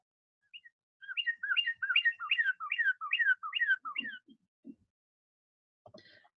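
Male cardinal song from a played recording, a run of clear repeated down-slurred whistles in rapid succession, then a few low soft notes and a faint call, alone against silence.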